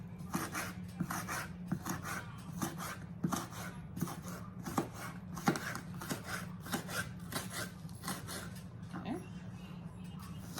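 An onion is chopped with a knife on a board, a run of crisp, fairly regular cuts, close by, with a person talking quietly underneath.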